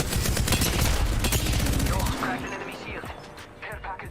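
Rapid automatic gunfire in the battle-royale shooter Apex Legends rattles loud and dense for about two seconds, then thins into scattered shots and mechanical clatter.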